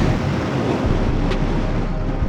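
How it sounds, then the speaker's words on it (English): Strong wind buffets the microphone on a Himalayan mountain pass, a steady broadband roar with low rumbling gusts, loud and continuous throughout with no voices. "It's very windy"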